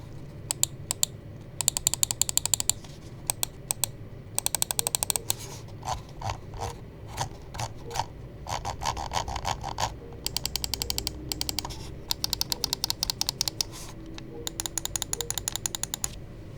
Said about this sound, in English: So let's go ahead and drop the click sound test.